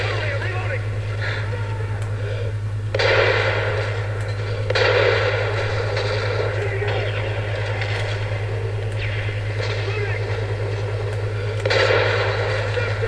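Gunfire and heavy explosions in a Call of Duty match rumble under a steady low engine drone, with a few loud blasts standing out and a player talking over the action.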